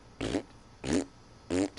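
A voice imitates fart noises with three separate blown, buzzing raspberries, each about a quarter second long, spaced evenly apart with quiet gaps between.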